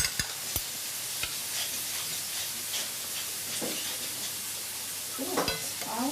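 A filet sears briefly in a hot pan with a steady sizzle and a soft hiss. A few clanks of utensils against the pan punctuate the sizzle, and no one speaks.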